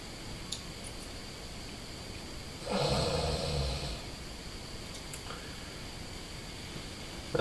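A person snores once, a single loud, rough breath lasting about a second, standing out clearly against a quiet room.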